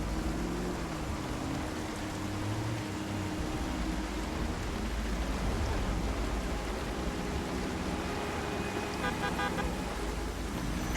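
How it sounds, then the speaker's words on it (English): A car horn sounds in short, light honks within the zombie survival game Project Zomboid. The honks sit over a steady engine drone and a broad noisy hum that persists throughout. "Trying to drag the crowd that is close to the house away with some light honking"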